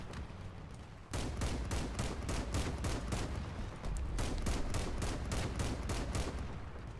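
Rapid bursts of autocannon gunfire from an armored vehicle in the Crossout video game, loud and sustained with evenly spaced shots, briefly pausing near the start and again midway before resuming.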